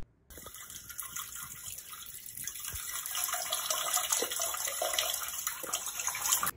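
Water gushes steadily from a tap, a continuous hissing flow that starts abruptly and grows slightly louder, with faint clinks in the background.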